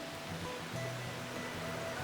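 Rock Hole Creek on the Butterfield Hiking Trail flows with a soft, steady rush of running water. The sound is faint and continuous, with no voices.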